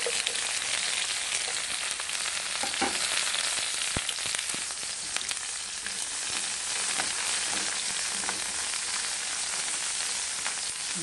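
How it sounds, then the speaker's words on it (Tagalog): Aromatics, tomato and ginger sautéing in a pan give off a steady, close sizzle and crackle, with faint stirring clicks scattered through it and no talking. "Igisa muna natin yung ating mga ricado guys. Then ilagay na rin natin yung ating kamatis at saka luya."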